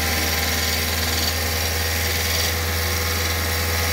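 A VW Fox 1.0 engine revs with a faulty noise, a steady close mechanical drone with a buzzing, vibrating whine that holds level throughout, with no voices over it.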